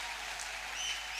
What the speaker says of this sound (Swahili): Mpigie Bwana makofi kwa sababu ya ile